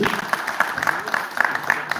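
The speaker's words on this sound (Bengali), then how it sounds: "সাংবাদিক ভাইদের জন্য একটা হাততালি" A crowd at a live event at the FDC film studios claps for journalists, producing dense, steady applause with crisp individual claps throughout.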